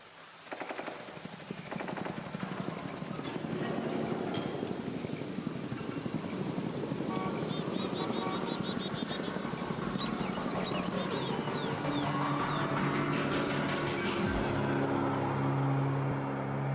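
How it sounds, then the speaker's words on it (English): Distant ambient helicopter in Warframe 1999, a faint low rotor drone sitting steadily under a busy game soundscape with scattered clicks and tonal effects, continuous throughout without speech. "this is what the distant ambient helicopter sounds like in Warframe 1999"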